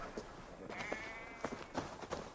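Sheep in Assassin's Creed Valhalla give a short, nearby bleat, followed by a few soft scattered farm-animal sounds over a quiet ambient bed.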